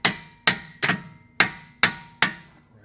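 A hammer strikes the rear hub assembly of a 2006 Nissan Murano AWD during hub replacement: six sharp metallic blows in a quick, slightly uneven rhythm, close and loud, each ringing briefly.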